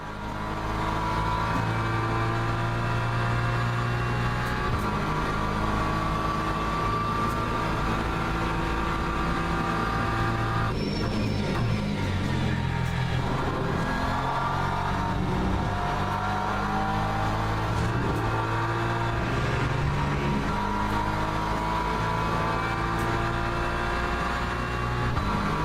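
Porsche race car engine in Le Mans Ultimate, a WEC racing game, droning steadily and loud throughout with shifting pitch as it revs and changes gear, with no talking.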